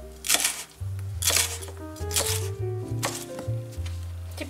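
A knife dices a bell pepper into cubes on a cutting board, giving about four crisp, evenly spaced chops over a low background hum.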